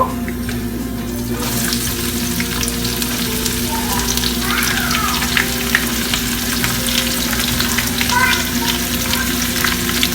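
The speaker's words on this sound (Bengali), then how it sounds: "রসুনটা একটু লাল হয়ে এসেছে এখন আমি পেঁয়াজ দিব" Onions fry in hot oil with browned garlic for a dried loitta fish dish, a loud continuous sizzling hiss with crackles, close and steady throughout.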